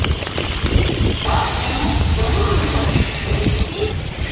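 Rain falling in wet weather at Prinsep Ghat, a riverside spot in Kolkata, a steady broadband wash of close-up rainfall that runs the whole stretch, with faint background noise and no clear talk.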